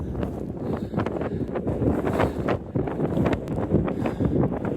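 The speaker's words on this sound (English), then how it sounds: "Well, you can probably hear the wind." Strong wind buffets the microphone in continuous gusty roars on a climb along the Southern Upland Way between Sanquhar and Watermeetings Forest, loud and close, with rumbling low-end bursts throughout.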